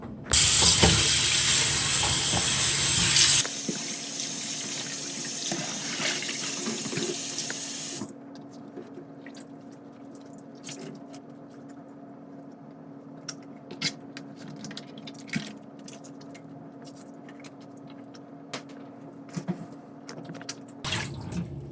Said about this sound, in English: I'm gonna rinse them now in some lemon, with some lemon under the pipe.